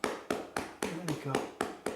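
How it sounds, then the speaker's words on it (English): Hands pat rhythmically just below the cervical spine during a seated chair massage, eight close, crisp taps at a steady beat with faint breathing or murmuring between them. "So I'm patting directly here, just where just below the cervical spine"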